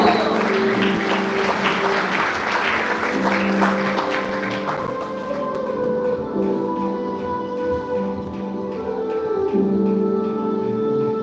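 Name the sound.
audience applause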